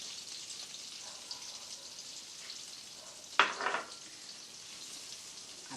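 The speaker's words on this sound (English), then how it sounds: "So we first of all add the chopped onion." Chopped onion hits a pan of hot butter and oil with a sudden louder burst of sizzling midway, over a faint steady frying hiss that carries on quietly afterward; no talking.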